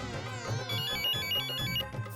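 A mobile phone ringtone plays steadily and loudly throughout, a repeating melodic ring with a low musical backing, with no voices.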